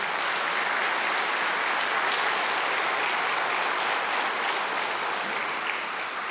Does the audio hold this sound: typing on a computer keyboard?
no